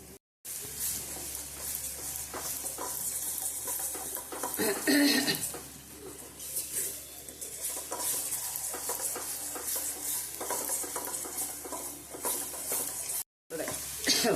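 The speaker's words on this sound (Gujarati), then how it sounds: "આપણે આને પણ ઘી ઉપર આવી જાય ને ત્યાં સુધી ચોળવી લેશું." Onion, garlic and chili chutney stirred and sizzling in ghee in a pan, a steady frying hiss with scraping spoon strokes against the pot throughout, close and fairly loud.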